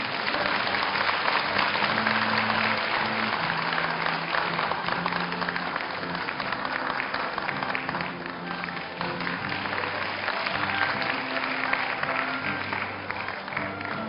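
An audience at a 2008 university graduation ceremony keeps up a steady round of applause, with soft background music playing underneath.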